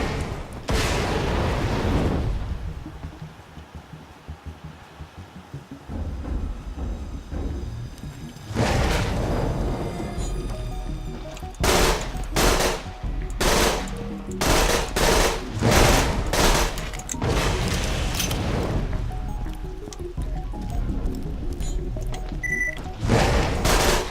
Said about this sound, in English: Look how effective this dull machine pistol is.